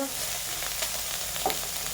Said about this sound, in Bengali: বাকি যে মাছগুলো ছিল বন্ধুরা সেগুলোকেও দেখুন তেলে দিয়ে দিয়েছি এগুলোকেও ভালো করে এবার লাল লাল করে ভেজে নিচ্ছি